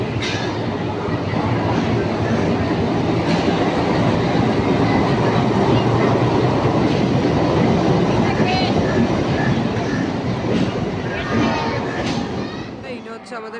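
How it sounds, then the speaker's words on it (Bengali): A 12347 Howrah–Rampurhat Sahid Express train at platform 6 of Howrah station produces a steady, loud rumble of rail noise with faint metallic clicks, under continuous station bustle, tapering slightly at the end. "আজকে আমরা এই ট্রেনেই জার্নি করব হাওড়া থেকে রামপুরহাট"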